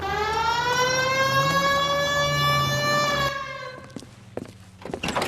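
Police car siren in the video game L.A. Noire wails loudly and steadily for about three seconds, then cuts off, followed by a few dull thunks and scattered clatter.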